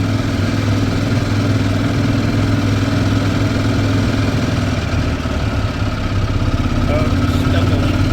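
Gas engine of a 2010 Yamaha Drive G29 golf cart revving at wide open throttle, a steady close, loud drone holding for about eight seconds with no break.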